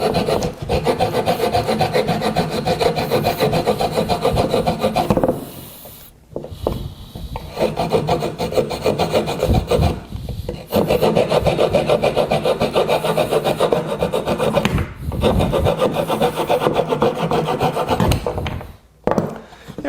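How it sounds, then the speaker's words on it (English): Rapid back-and-forth rasping of a cheap Walmart multitool saw blade cutting through wood, loud and close, in sustained bursts broken by brief pauses around five, ten, fifteen and nineteen seconds. "let's go ahead and just do a little sawing just to see."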